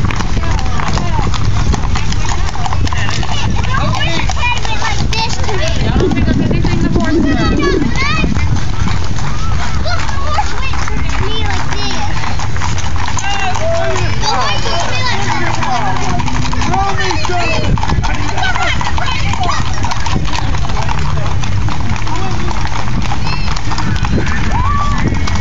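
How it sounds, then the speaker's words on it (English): A horse runs off with steady clip-clopping hooves throughout, set against a loud, constant outdoor background with some engine-like rumble; people talk and cheer over the hoofbeats. "horse is running away."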